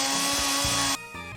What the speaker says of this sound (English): are these people my fucking neighbors booting up the power tools at 7 a.m.?